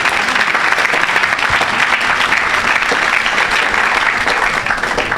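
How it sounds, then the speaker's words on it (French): A worshipping congregation claps loudly for Jesus, a continuous roar of applause filling the whole stretch without pause. "Acclamez pour Jésus."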